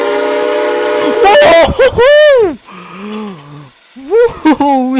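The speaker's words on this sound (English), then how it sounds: "we're now going to be hearing the whistle in 3, 2, 1" A loud steam whistle from the Atchison, Topeka & Santa Fe 3751 locomotive in a video game blares with wavering, sliding pitch, dipping and rising in several blasts, close and piercing over a steady mechanical hiss.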